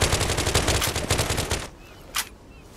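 Rapid automatic gunfire from the online shooter Zula rattles in a fast, even burst for about a second and a half, followed by a single short shot after a brief pause.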